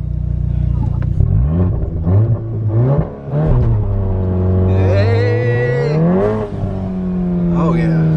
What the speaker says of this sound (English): See the smoke? Nice, we're doing burnouts.